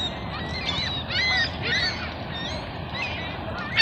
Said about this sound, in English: Those geese are having fun.